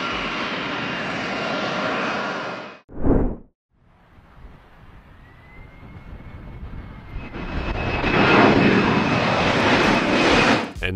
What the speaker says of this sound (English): let's watch the moment the Finnair flight Airbus A321-231 type A321 attempted to land at the airport